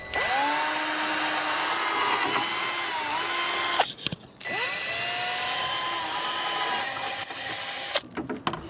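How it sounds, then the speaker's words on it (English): A power drill bores holes for mounting a siren on a police interceptor project car, whining steadily in two long runs that spin up and sag under load, with a brief pause between them and rattling at the end. "And now let's drill them out."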